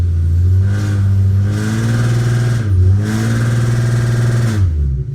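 A car engine held against a transbrake revs in two long, steady pushes with a slight dip between them, loud and close, then drops back toward idle at the end.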